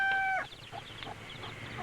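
Close-up clucking and high peeping from a hen guarding her nine small chicks in a farmyard coop, with soft short calls repeating steadily.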